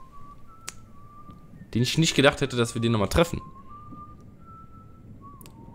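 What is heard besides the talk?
someone whistling in Telltale Game of Thrones video game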